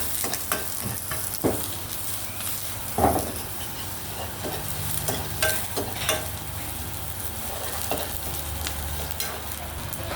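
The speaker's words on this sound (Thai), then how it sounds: "ผัดหอมใหญ่ให้ใสก่อน หลังจากนั้นก็ใส่กระเทียมครับ" Onion and garlic are stir-fried in a hot pan for a squid curry-powder dish, with a steady close sizzle throughout and repeated scraping and clacking strokes of stirring.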